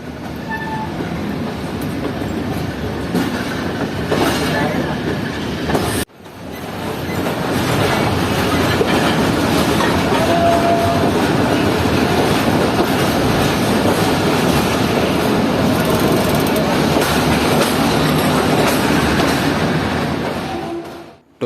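The Shah Hussain Express pulls into Lahore station with a loud, continuous rumble and rail clatter, a brief drop near the start, then sustained rolling noise that fades at the end.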